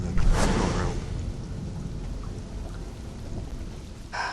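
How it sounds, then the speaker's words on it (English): Steady heavy rain falls in the Conan Exiles game world, with a rumble of thunder near the start, fairly loud and continuous with no talking. "It's raining everywhere."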